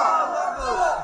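A crowd at a Sylheti religious sermon gathering roars back in unison, answering the Takbir call with a sustained, loud chorus of shouts lasting the whole moment.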